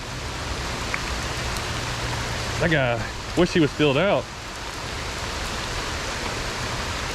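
Steady rain falls beside a creek during a bass fishing outing, a constant broadband hiss throughout, with someone speaking briefly in the middle.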